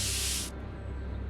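A spray can hisses in a Back to the Future video game, one loud, steady burst of about half a second that cuts off abruptly and leaves near silence.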